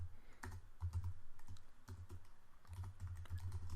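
Quick bursts of computer keyboard keystrokes, typed in short irregular runs with brief pauses, close and moderately quiet with no voices.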